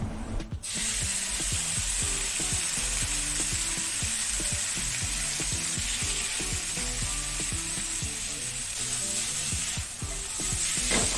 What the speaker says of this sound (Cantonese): 今次我哋用嘅係瘦肉片、薑片、蒜頭，再爆香佢